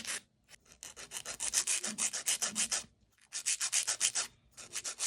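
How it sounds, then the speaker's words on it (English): A 100 grit file is rubbed back and forth across an acrylic nail, giving quick, close, rasping strokes in two steady bursts separated by a short pause, with no talking. "I'm going to take this lovely 100 grit file and just make sure everything is"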